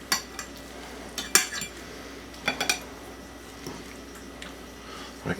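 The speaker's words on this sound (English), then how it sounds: "If you cut into these, you'll see they are creamy on the inside and very crispy on the outside." Cutlery cuts into crispy-coated spaghetti balls with a creamy centre on a plate, giving several sharp metallic clicks and taps scattered irregularly, fairly close and moderately loud, with no talking.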